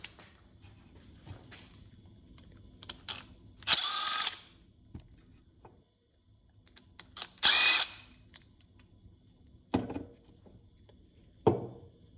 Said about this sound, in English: let's pull the carburetor apart